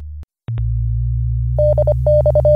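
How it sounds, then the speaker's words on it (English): THOR Micro digital data stream on a shortwave radio, a steady low hum broken by short bursts of clipped high tones in rapid rhythmic groups, close and clear with no talk. "we have a data stream at 72 Hz in Thor Micro"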